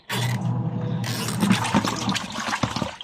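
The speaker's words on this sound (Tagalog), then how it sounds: "habang umiikot po yung washing machine natin" A household washing machine turns with water inside, giving a steady swishing, gurgling churn close by that runs without pause.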